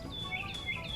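A person whistles bird calls in a voice imitation: thin, high chirps and tweets that slide and repeat over about a second, loud and close against a steady background hiss.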